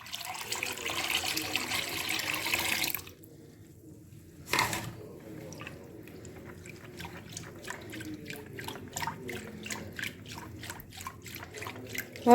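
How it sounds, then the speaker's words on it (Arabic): Two liters of water poured into a homemade liquid soap mixture of tangerine and orange peel, a steady splashing stream that stops, followed by a scatter of quieter drips and trickles. "معايا 2 لتر ميه كده بالشكل ده، هنزل بهم برضو."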